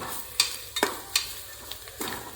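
Spices frying in oil for a vegetable pulao, a soft sizzle with several distinct scraping strokes of a spoon against the pan at irregular intervals, no talk.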